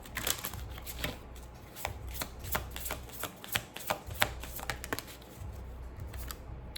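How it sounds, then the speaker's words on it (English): Advice cards are shuffled by hand nearby in a quiet room, a series of crisp riffling snaps and soft slaps coming in uneven bursts, with no voices. "Let me pull some advice cards"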